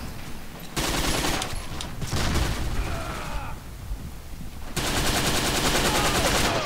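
Sustained machine gun fire in the World War II shooter Forgotten Hope 2 at Bardia, loud rapid bursts rattling continuously with a brief lull midway before heavier, steadier firing resumes.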